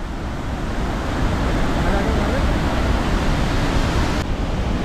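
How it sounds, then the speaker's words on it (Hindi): Fast-flowing mountain river water in the Valley of Flowers rushes in a dense, continuous roar, loud and close with no breaks. "तो ये देखो यार फ्लो पानी का"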